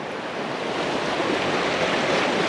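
Floodwater bubbles and rushes near a roadside culvert during a December flood in Vermont, a steady broadband gurgling wash that holds at a constant moderate level throughout, with no talking.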